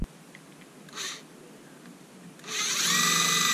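An impact driver whirs briefly once and then runs again at higher pitch, driving the terminal screws of a light switch. The sound is close and moderately loud against a quiet room.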